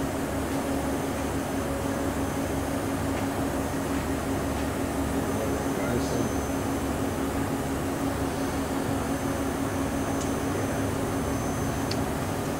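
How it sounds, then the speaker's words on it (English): A 1989 Hurco BMC-20 three-axis CNC vertical machining center runs its spindle with a steady, loud mechanical hum and whine, a constant drone holding through the whole stretch with faint ticks and no talk. "looks like the spindle's slowing down a little bit"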